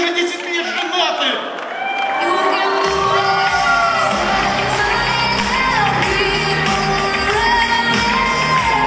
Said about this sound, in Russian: Осторожно, оглушающий визг фанаток.